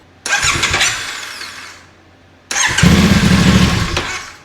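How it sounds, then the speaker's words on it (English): A 2025 Ibex 450 motorcycle engine is turned over twice during a first oil service, each burst a loud close cranking whir lasting about two seconds, the second one stronger, with no talk. "now I'm going to burp the system. And what I mean by that is I'm going to turn the bike over."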